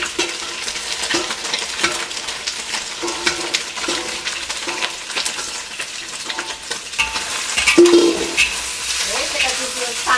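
Lamb brisket sizzles and fries in a hot pan as it is stirred, with bright crackling, repeated scraping strokes and clinks throughout, loud and close.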